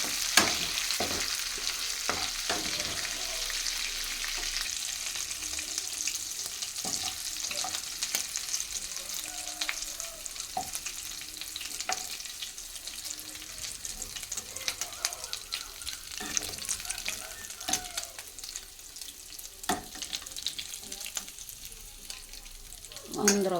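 Prawns fry in plenty of oil for a curry, giving a steady sizzle with scraping stirs and occasional clinks of the spoon against the pan.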